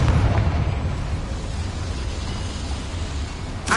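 Confringo explosion spell in Hogwarts Legacy, set inside a small mine: a loud booming blast that rolls into a sustained rumbling roar, with a sharp new burst at the very end.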